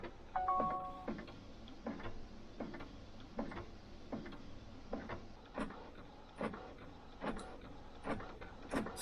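A large A3 printer working on a wobbling table gives off a steady series of regular mechanical clunks and ticks, about one each half second, close and fairly quiet.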